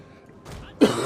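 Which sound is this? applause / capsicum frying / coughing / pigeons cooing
coughing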